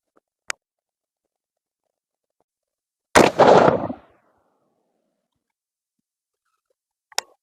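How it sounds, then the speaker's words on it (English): A .22 ARC rifle fires during sighting in, with a loud close report followed by a short trailing echo, and two faint sharp clicks or distant cracks before and after in otherwise near silence. "let's shoot a 3-shot group and see what we get"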